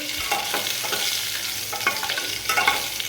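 Bottle gourd sizzles in a pan over a cumin and bay leaf tempering in a little oil, with repeated scraping stirs of a spatula over a constant close frying hiss and no voices.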